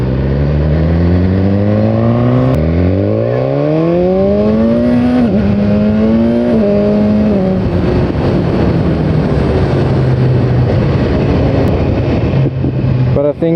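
A 2017 BMW S1000R motorcycle engine accelerating hard through rising gear pulls, loud and close, with the revving pitch climbing and dropping at each shift before settling into a steady high drone.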